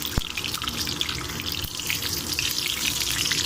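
Mustard seeds and cumin splutter in hot oil in a pan, a dense, continuous crackling hiss with scattered pops, close and fairly loud throughout.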